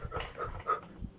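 A trumpeter imitates dog panting as a breathing warm-up, pushing quick rhythmic huffs of air in a short burst of about four breaths, close and moderately loud with no talk.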